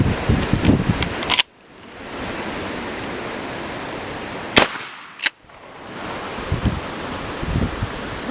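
An improvised wax slug round, made from chopped finishing nails capped with wax, is fired at a target 10 yards away. Several sharp, loud, broadband bangs cut through a steady, noisy, wind-like background.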